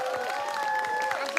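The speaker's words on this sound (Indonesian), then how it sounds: "Boleh tepuk tangan untuk ketiga tim?" Brief audience applause for three competing teams at a televised grand final, a short burst of clapping with faint crowd noise and tonal sounds over it.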